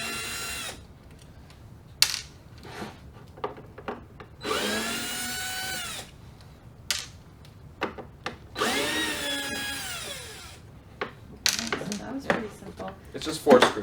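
Cordless power drill backing screws out of metal tray rails, several whirring bursts that rise and fall in pitch, close and clear, alternating with light clicks and handling noise while someone talks.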